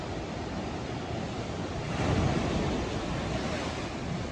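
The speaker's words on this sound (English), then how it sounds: "those crashing waves going into this thing here" Ocean waves crash on a Pacific Coast Highway beach outside Santa Cruz, a broad continuous roar of surf that swells slightly midway, with some wind buffeting the microphone.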